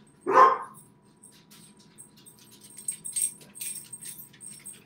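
A dog gives one loud, close bark, followed by quieter jingling and faint scuffling at home.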